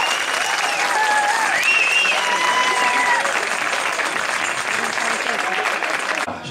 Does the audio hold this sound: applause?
yes